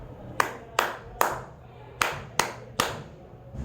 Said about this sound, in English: the teacher could clap another rhythm